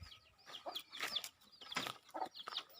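Chickens and young chicks clucking and peeping while being fed on a provincial farm, a busy scatter of short calls and rustling at moderate distance, no one talking.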